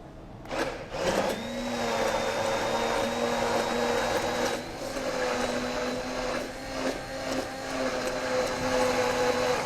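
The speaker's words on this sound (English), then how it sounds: "So normally you just blend it several times." A kitchen blender whirs steadily while blending cake pop mixture with added coloring, starting abruptly and running loud and continuous for nearly ten seconds with a high motor whine.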